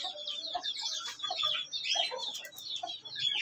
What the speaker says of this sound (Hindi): एक मुर्गी वहाँ पे बैठी हुई है उसके नीचे इस टोकरे के